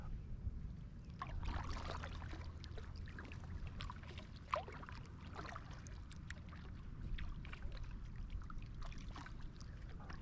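Kayak paddling along Crane Creek, with soft, irregular splashes and drips of paddle strokes over gentle water trickle, quiet and close, with one sharper knock midway.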